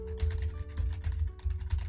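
Fast computer keyboard typing, close and busy, with dense clicking keystrokes in quick bursts and no talking.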